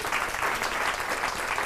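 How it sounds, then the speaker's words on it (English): A lecture audience bursts into brief, dense applause that stays steady for under two seconds. "I'll take applause."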